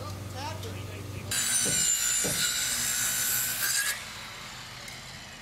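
A wooden rafter beam cut down by about a quarter inch with a saw on a Habitat for Humanity house build, a loud rasping burst of cutting lasting a few seconds between quieter stretches with voices.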